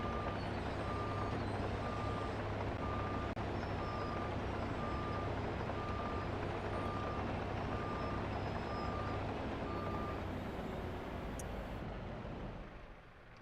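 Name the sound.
dump truck reversing beeps in video game Farming Simulator 25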